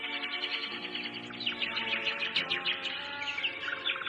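A songbird sings rapid, bright chirps and trills with some echo, fairly close and continuous, with no talking over it.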